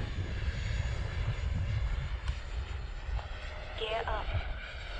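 An FMS F18 Super Hornet 70mm Arctic V2 RC jet runs its electric ducted fan with a steady, loud whine and rushing hiss throughout, under brief talk and a short rising electronic tone near the end.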